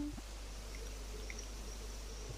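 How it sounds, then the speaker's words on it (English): A waterfall on an Animal Crossing island near a Tyrannosaurus model gives a steady, soft rushing wash with a low hum beneath, continuous and even throughout. "waterfalls all the way around this Tyrannosaurus"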